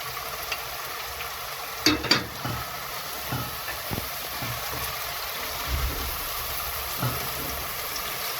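Fried eggplant sautéed in a pot for a bean and chickpea stew gives a soft, steady sizzle, broken by several sharp clanks and scrapes of a utensil stirring against the metal.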